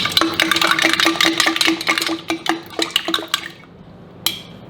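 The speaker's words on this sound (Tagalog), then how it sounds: "haluin siya ng maayos." A utensil stirring mango juice with water in a pitcher, rapid close clinks and sloshing in a quick rhythm that slows and fades, ending with one last tap.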